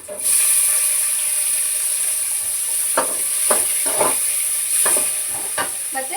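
Chopped tomato goes into fried onions in a hot pan, giving a steady close sizzle broken by several distinct spatula scrapes and stirs.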